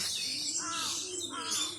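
Racing pigeons call at their loft in the early morning, giving a continuous run of soft chirping and cooing notes that stay fairly close throughout.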